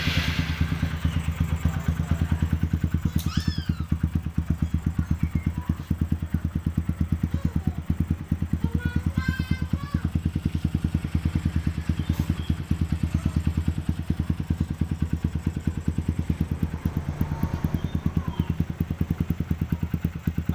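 A Honda CRF 150 motorcycle with a swapped carburetor putters steadily on a test ride, a rapid low engine thrum with rhythmic pulsing throughout, a few faint sharper chirps and clatters over it.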